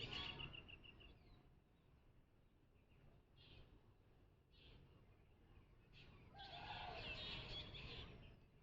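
Birds call in the early morning, with scattered chirps and whistles at a moderate distance over a soft ambient background, and a denser burst of song near the end.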